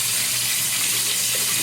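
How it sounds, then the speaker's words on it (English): Water runs from a tap into a basin while waiting for it to warm, a loud steady splashing rush that stays constant throughout with no voices. "I'm just going to wait until the warm water comes out"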